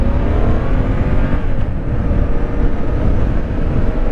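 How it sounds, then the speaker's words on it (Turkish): A loud motorcycle engine, still being broken in, drones steadily throughout, revving slightly and rumbling up close with no voices. "Motosiklet henüz rodajda."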